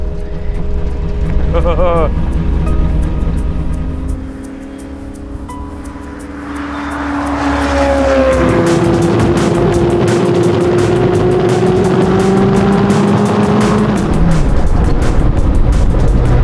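A powerful 650bhp LS V8 engine in a custom Porsche roars and revs up hard, its pitch climbing as it accelerates, with heavy wind rushing past throughout.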